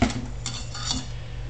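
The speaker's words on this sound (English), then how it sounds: "Let's get that whisked up." Keto pancake batter being whisked in a bowl: quick, close metallic clinks and scrapes in a loose repeating rhythm.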